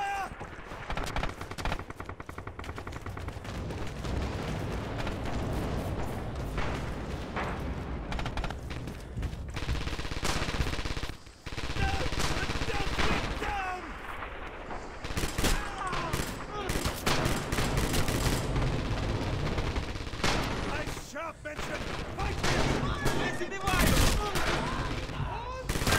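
Enemy gunfire in Red Orchestra 2 on the Spartanovka territory map, a dense, continuous barrage of overlapping shots and rattling bursts over heavy battle noise, with voices mixed in.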